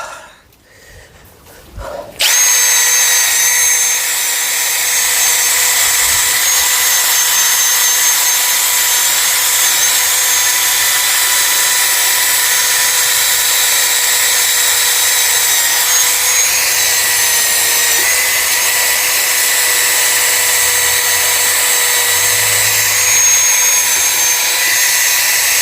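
A power cleaning tool scouring a Nissan X-Trail's back plate, a loud, continuous high-pitched whine and grinding rasp that starts abruptly after a short pause and holds steady for over twenty seconds, close up.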